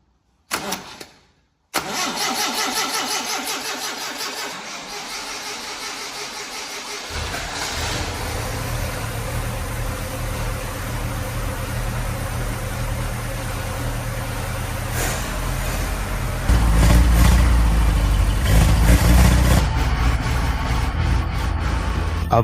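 A 1942 Willys MB military jeep, its 80-year-old engine restored from scrap, cranks and catches, then settles into a loud, steady, close idle that rises into a heavier rev near the end.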